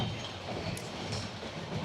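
Interior of the Paryatan Express running from Dhaka to Cox's Bazar, a steady rumble and rattle of the moving carriage with a couple of faint high metallic clinks.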